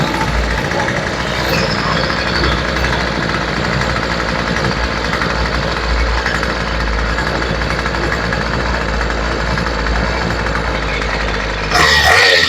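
An old weed eater engine, left outdoors in the weather for years, starts and runs at a loud, steady buzzing idle that holds through the clip before a brief burst of higher noise at the end.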